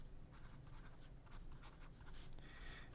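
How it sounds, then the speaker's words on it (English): An ADMOK M800 fountain pen with a wet, smooth nib writes quickly across paper, making a steady close scratching and swishing with short bursts of strokes and no voices. "Fast writing."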